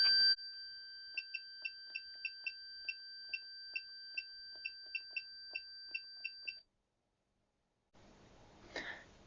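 A Fluke multimeter on its ohms setting gives a continuity test of about 18 short, evenly spaced electronic beeps that fall quiet, and after a pause comes a brief faint rustle.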